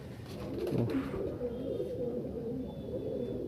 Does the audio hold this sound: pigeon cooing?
yes